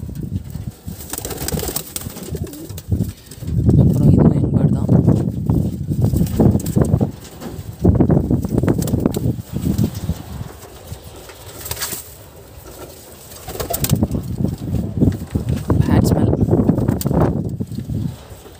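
Pigeons coo in low, throaty, rolling bursts, loud and close, with pauses and some rustling and scuffing between the calls.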